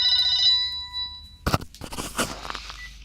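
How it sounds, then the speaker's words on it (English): A short electronic ringtone trills for half a second, then gives way to rustling, handling noise, and a faint fading tone. "my phone is ringing"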